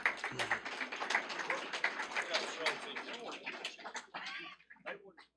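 Audience applause at a career and technical education signing day, dense overlapping claps from a crowd that build quickly, run for several seconds and then thin out into scattered claps before stopping.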